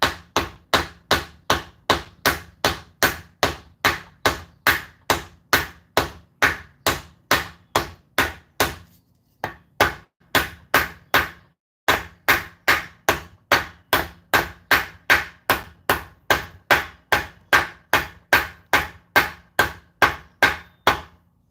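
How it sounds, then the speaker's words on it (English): A hammer strikes repeatedly to drive a part down straight on a Ford Mustang being prepared for drifting, dozens of sharp metallic blows in an even rhythm with two brief pauses, close and loud. "Trying to make sure it's hammering down straight"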